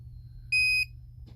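A single short electronic beep from a voltage tester checking wiring, high-pitched and steady, sounds once for about a third of a second in an otherwise quiet room with low hum.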